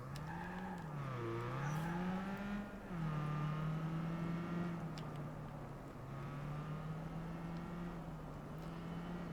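Convertible car driven in Watch Dogs 2 game, its engine humming steadily with pitch rising and dipping as it accelerates and eases off, fairly quiet and without speech.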